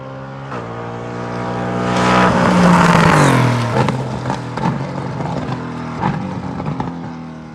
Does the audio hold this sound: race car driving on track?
yes